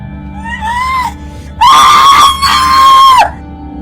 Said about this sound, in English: Why are you screaming when I haven't even cut you yet?